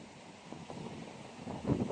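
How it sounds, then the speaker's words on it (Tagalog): Steady, broadband wind roaring across the microphone at a seawall, with low rumbling gusts that swell louder near the end; no voices. "napakalakas ng hangin"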